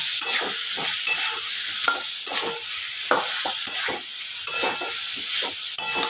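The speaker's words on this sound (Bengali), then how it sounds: "ভাজা আলু ফুলকপিগুলো দিয়ে দিলাম এবার ভালোভাবে একটু নাড়াচাড়া করে নেব" Steady sizzle of fried potatoes and cauliflower in a pan, with a utensil repeatedly scraping and stirring through them at close range.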